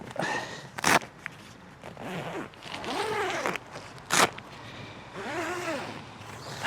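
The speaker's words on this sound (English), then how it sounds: "that's quite a big chunky zip, like that" The large, chunky zipper on a Robens Cobra Stone 5 tent is pulled in two sharp, quick bursts, with a person talking softly in between and outdoor rustling behind.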